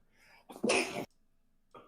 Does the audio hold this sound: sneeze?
yes